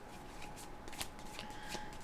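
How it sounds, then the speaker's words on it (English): Tarot cards being shuffled by hand, a soft continuous riffling and sliding with a few sharper slaps, close and fairly quiet, with no talking. "if you don't like the shuffling, you can always fast forward a little bit."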